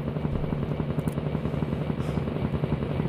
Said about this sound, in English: The chopper's here.